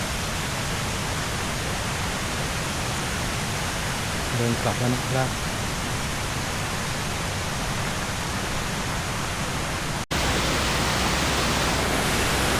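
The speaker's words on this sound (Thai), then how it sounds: "น้ำตกกล้วยแม่ขมิ้นทั้ง 7 ชั้นนะครับเดินสำรวจเรียบร้อย" Huai Mae Khamin waterfall roars as a steady, dense wash of falling water that stays loud throughout, with someone talking briefly over it and a sharp click near the end.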